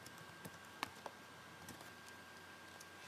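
Faint typing on a computer keyboard while entering a web address in a browser, a few scattered light clicks with one or two sharper taps over a quiet room hum.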